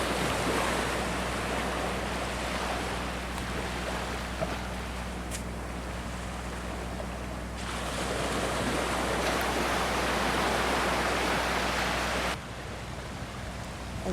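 Steady broadband surf from sea waves at Laem Haad Beach at sunset, a continuous wash of rolling breakers with a low rumbling undertone and gentle swells in intensity, no voices.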